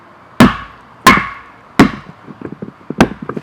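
A thick 6 mm Le Taix craftsman knife blade strikes down into a wooden block in four sharp, loud chops at a steady pace, followed by a run of softer tapping knocks on the wood.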